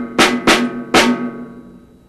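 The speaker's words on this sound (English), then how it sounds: "Figure 25 is another typical rhythm pattern found in jazz ensemble drum parts" A drum set plays a jazz ensemble rhythm pattern: three sharp, close accented hits with ringing cymbal and tom sustain, the last stroke decaying slowly into quiet.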